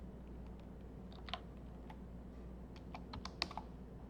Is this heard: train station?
no